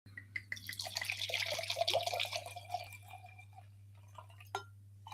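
Red Spanish Garnacha wine, Brillo Solar, poured from the bottle into a glass: a soft, close trickle and splash that runs for a few seconds, thins and trails off into a couple of faint drips, alone over a low electrical hum.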